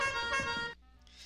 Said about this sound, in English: That could be like an air horn,